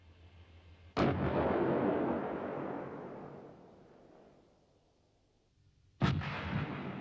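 A Bofors low-pressure 90mm gun on an IKV91 tank fires two heavy booming shots a few seconds apart, each a sharp blast followed by a long rumbling decay.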